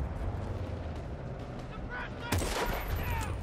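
A single sharp, loud gunshot cracks out late in a moment of Battlefield Bad Company 2 gameplay, standing out over a low rumbling battlefield background.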